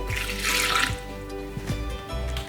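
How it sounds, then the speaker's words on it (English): Porcini mushroom soaking liquid poured into a bowl of risotto in progress, a brief close trickling splash that runs about a second before fading into faint clinks and handling noises, with no talk. "now we're going to add the remaining juice from the porcini mushrooms. Just pour that into the bowl."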